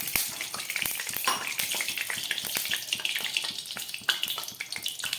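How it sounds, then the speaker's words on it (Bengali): Eggplant pieces frying in hot oil in a kadai, a steady loud sizzle with frequent sharp crackles and pops throughout. "এই তেলের মধ্যে আমি বেগুনগুলোকে একটু ভেজে নিই।"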